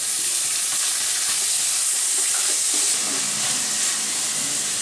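Onions and tomatoes for a fish gravy sauté in a pan with a loud, continuous close hiss and sizzle, steady throughout with faint scraping underneath.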